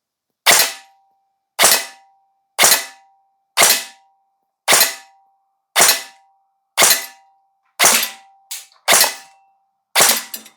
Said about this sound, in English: we're going to shoot 10 rounds in semi-auto and see what kind of accuracy we get